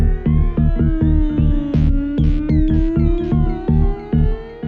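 A thick deep progressive house synth bass preset plays a rhythmic line with bright, buzzy upper harmonics, steady chopped notes over a sustained low tone, loud and close with no voices.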